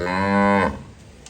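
A Cholistani Friesian cow offered for sale gives one loud, full moo lasting about two-thirds of a second, then quiet farmyard air with no voices.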